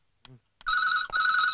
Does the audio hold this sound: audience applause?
no